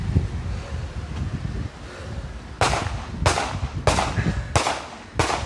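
Rifle shots at an online fitness-and-firearms shooting competition: five sharp reports in a fairly steady rhythm over wind-buffeted outdoor noise, each crack loud and close.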